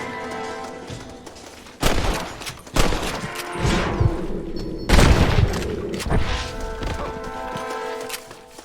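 Gunfire in the Western video game Red Dead Redemption: several loud, booming shots crack out at uneven intervals, each followed by a rolling echo, heavy and close, with no voices.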